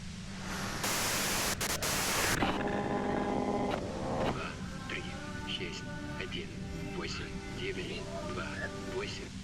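Loud broadband static hiss fills the opening seconds in Disco Elysium, cutting off abruptly, then giving way to a quieter hum with voices talking over it.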